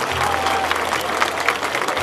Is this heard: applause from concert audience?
yes